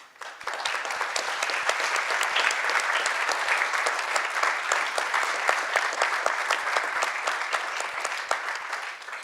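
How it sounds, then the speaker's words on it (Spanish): An audience gives a sustained round of applause for the panelists at a political forum, dense steady clapping from many hands that holds for several seconds and tapers at the end. "Yo quiero un fuerte aplauso para ellos."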